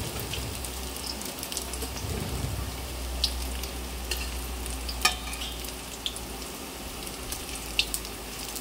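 Dough frying in hot oil makes a continuous crackling sizzle with scattered sharp pops and a light utensil tap, heard up close with no voices.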